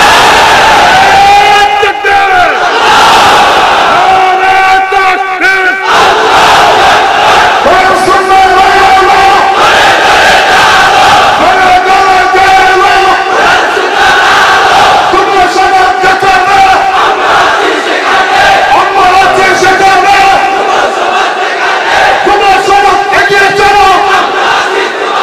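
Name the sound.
crowd shouting the takbir chant (Allahu Akbar) in response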